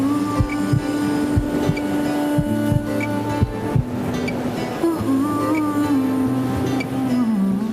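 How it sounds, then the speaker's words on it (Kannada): A heartbeat sound effect in a Kannada TV serial thumps in a steady, repeated low pulse beneath sustained dramatic music and a soft wash of surf, with no talk. "ಈ ನನ್ನ ಹಾರ್ಟ್ ಬೀಟು ಸಮುದ್ರದ ಅಲೆ ಸೌಂಡ್ಗೆ ಸಿಂಕ್ ಆಗ್ತಾ ಇದೆ ಕಮಲಿ ಅವರೇ."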